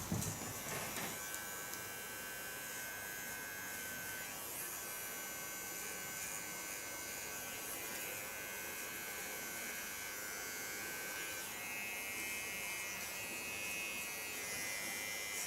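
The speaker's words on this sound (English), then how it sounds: "On this Keone clipper there's also a special blade to do tattoo lines. And this is what I have on now." A Keone electric hair clipper runs steadily throughout, a close, continuous high buzz with a faint motor hum underneath and no talking.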